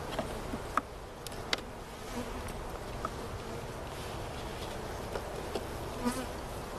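A steady, dense hum of honeybees buzzing around a beehive in a club apiary yard, with individual bees zipping close past the microphone now and then.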